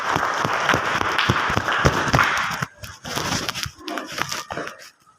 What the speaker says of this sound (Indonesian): silahkan kita berikan aplaus